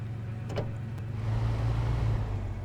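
A truck backs up in the SnowRunner video game, its low engine drone humming steadily and swelling slightly partway through, with a couple of faint clicks early on and no speech.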